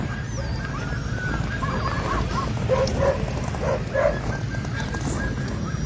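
Sled dogs barking and yipping in scattered bursts amid a steady outdoor din as teams are harnessed before the 45th annual K300 sled dog race, with faint voices nearby.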